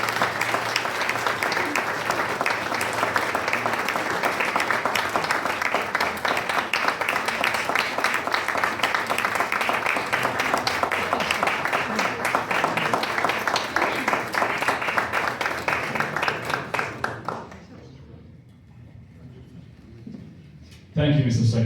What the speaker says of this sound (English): So let's have a loud round of applause.